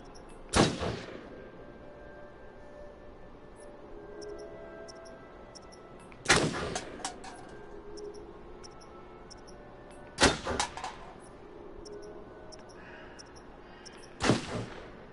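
Video game gunfire in Until Dawn, aimed at a squirrel: four sharp, loud shots spaced several seconds apart, each with a short echoing tail over a quiet outdoor background.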